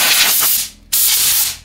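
A power drill bores holes with a loud, broadband grinding whine, one sustained burst that briefly cuts out for a moment before starting up again, close and with no voices.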